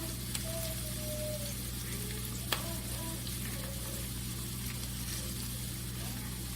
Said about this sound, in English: I'm going to put half of a filled roast sausage in one pan and half of one in another.